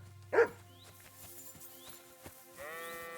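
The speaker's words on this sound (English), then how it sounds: "Mutt, I love having you around. I'm really tired of hearing you bark." A dog gives a single short, sharp bark in a video game, followed by quieter game ambience and a soft musical tone.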